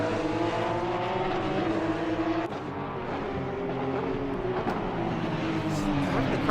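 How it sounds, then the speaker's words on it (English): Porsche Cup race cars at a circuit in Hungary, with engines howling at rising and falling pitch as they downshift. A commentator talks over the fairly distant engine noise. "Hearing those downshifts."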